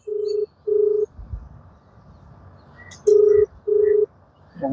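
Phone call ringing tone: two evenly spaced pairs of short electronic beeps separated by a quiet pause, clear and close, with faint background rustle and no speech.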